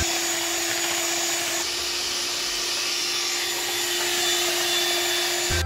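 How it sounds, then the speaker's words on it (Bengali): An electric blender whirs loudly and steadily at close range, mixing fresh cream, condensed milk, food colour and saffron-soaked milk for kesar pista ice cream. There is no talk. "এবার ভালো করে ব্লেন্ড করে নিলাম।"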